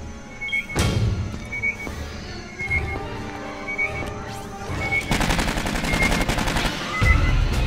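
Automated sentry turret firing in the Aliens: Colonial Marines multiplayer survival game, a loud, near stream of rapid gunfire bursts that build into sustained fire toward the end, with chirping electronic beeps repeating over it.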